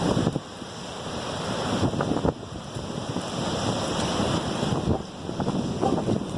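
Strong wind gusting through a downtown Seattle street corner in Belltown, a steady roaring rush buffeting the microphone with sharper gusts, no voices.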